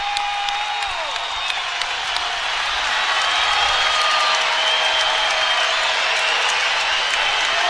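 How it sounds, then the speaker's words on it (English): A wrestling arena crowd at an Iowa versus Penn State dual cheers and applauds steadily, a broad roar of clapping and shouting that swells louder midway and holds, with faint whistles above. "Crowd really getting behind Real Woods right now."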